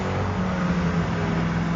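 A Koenigsegg V8 engine bolted directly to the chassis drones loud and steady inside the cabin, a continuous deep rumble with no breaks.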